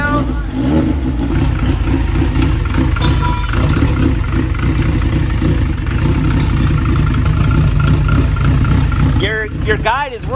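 A turbocharged car engine running without its downpipe, roaring loud and raw at close range with a steady rough idle throughout; a voice comes in briefly near the end.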